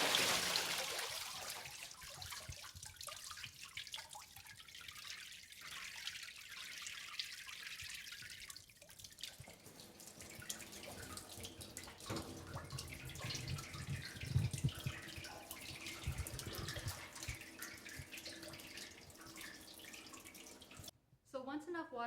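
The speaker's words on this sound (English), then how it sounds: "So once enough water has drained out, I'm actually going to take that decal right off from the mold" Water draining and dripping from a Western hand papermaking mold after a single dip into the fiber vat, a steady trickle and patter at close range that gradually thins toward the end.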